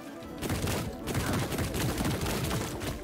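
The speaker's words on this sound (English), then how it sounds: "I don't mind shooting you from a distance." Rapid gunfire in the shooter game High on Life, a dense continuous volley of shots filling the whole moment, loud and steady with no talk.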